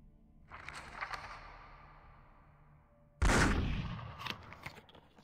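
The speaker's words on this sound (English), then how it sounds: "Why are you constantly shooting?" Gunfire in the VRChat game: a faint burst early on, then a sudden loud blast followed by a few sharper shots trailing off, near and without talk.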